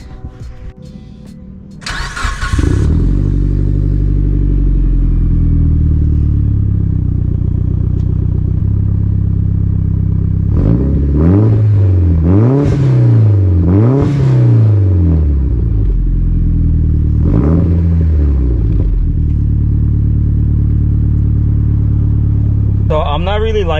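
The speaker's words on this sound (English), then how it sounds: "start it up and see what it sounds like." A Mitsubishi Evo with its muffler deleted starts up and revs loudly, the raw exhaust rising and falling through several sharp throttle blips over a steady, rumbling idle.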